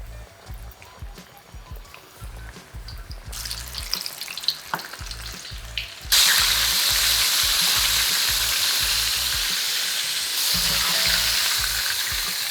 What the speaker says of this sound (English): we're just gonna fry a couple pieces at a time